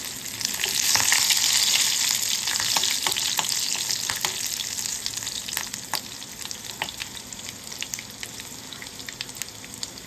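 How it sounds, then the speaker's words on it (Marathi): Mustard seeds, garlic and curry leaves sizzle in hot oil for a tempering in a Konkan-style dish. A loud, steady hiss runs throughout, scattered with sharp crackles and pops, and no one speaks. "जे आपण लसूण घेतले ती सुद्धा फोडणीला आणि त्यानंतर कढीपत्त्याचे तीन ते चार पानं आपण घालून घेणार आहोत"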